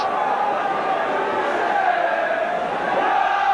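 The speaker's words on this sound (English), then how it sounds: "Certainly the Saints crowd getting behind them now." St Helens Saints supporters at a 1989 rugby league match against Leeds keep up a steady, loud crowd roar, a dense, continuous wash of voices with commentary talk running over it.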